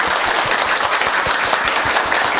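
Teachers clap loudly for a student, a dense burst of applause with quick overlapping claps that stays steady and fairly near for a couple of seconds.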